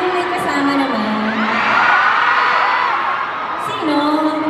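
Live crowd at a Filipino celebrity fan event cheers, whoops and screams loudly and continuously, a dense roar of many voices swelling mid-clip, with higher shouts over it.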